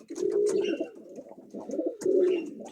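Pigeons cooing close by in a coop, two throaty rolling coo phrases with a brief pause between them.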